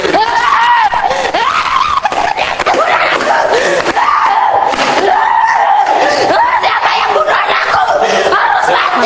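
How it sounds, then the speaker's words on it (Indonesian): A grieving mother screams hysterically while demanding the death penalty for her child's killer, her loud, strained cries rising over a noisy crowd of shouting voices throughout. "ibu kandung Angelin tentunya histeris ya, meminta pelaku pembunuhan anaknya dihukum mati"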